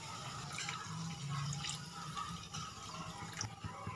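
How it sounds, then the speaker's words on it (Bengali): Water pours into a pan of fried spices, simmered for a vegetarian matar paneer curry, as a continuous close splashing and gurgling stream at steady loudness for a few seconds, with no voices. "এবার আমি দিয়ে দেব জল।"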